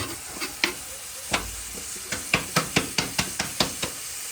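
Tadka spluttering in hot mustard oil in a home kitchen, a steady sizzle with a rhythmic run of sharp scraping stirs and clacks of a spoon against the pan, close and fairly loud, no voices.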